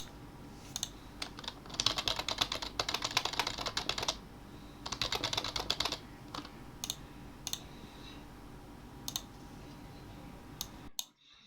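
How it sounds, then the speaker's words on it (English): Computer keyboard typing while playing Team Fortress 2, close and clattery, with bursts of rapid keystrokes separated by pauses and isolated single key clicks. "it's like the sound of me using my keyboard to play the game"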